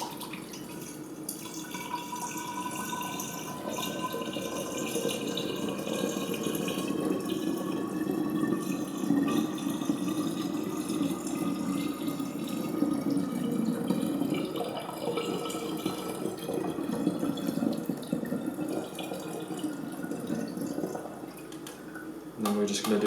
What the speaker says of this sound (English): we're just going to continuously pour back and forth this mixture from the beaker into the bottle that we'll be using